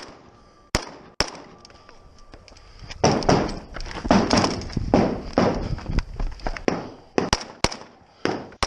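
Kalashnikov rifle shots at a shooting competition stage, sharp loud cracks fired singly and in quick uneven strings, with scattered clatter and movement noise between shots.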